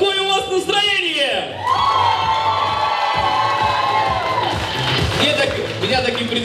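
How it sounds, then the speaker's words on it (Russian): Wedding reception guests burst into loud, sustained cheering, whooping and shouting as a crowd, after a host's voice at the very start. "хотелось бы по аплодисментам определить, какое у вас настроение!"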